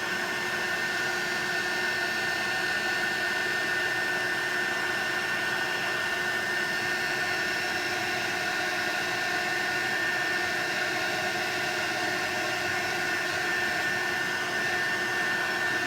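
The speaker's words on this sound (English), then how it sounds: "can you see how that powder's changing when the heat gun's on it?" A heat gun melting embossing powder on a handmade card gives a loud, steady hissing whir that runs unbroken throughout with no other sound.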